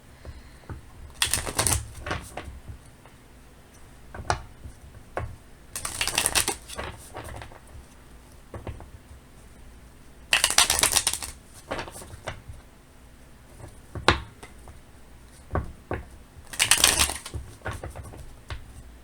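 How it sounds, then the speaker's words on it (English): Oracle cards from a handmade deck are shuffled in four or five loud, crisp riffling bursts, each a second or so long, with quieter taps and card handling in between and no talking. "we'll pull a couple of oracle cards from a deck that I made myself"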